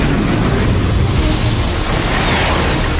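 A cartoon jet jump effect in a RedaKai battle: a loud, steady roaring whoosh like a jet engine, with a rising high streak through it, sustained for about three seconds with no voices.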